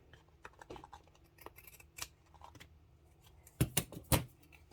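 Scissors snipping through a coffee- and beet-dyed index card, a few soft cuts followed by several sharper, louder snips near the end, close and alone without talk.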